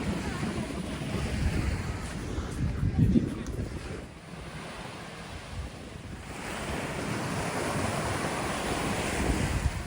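Ocean waves roll in at Armação de Pêra beach in the Algarve, a continuous broad wash of surf with wind buffeting the microphone, surging louder near the start and end.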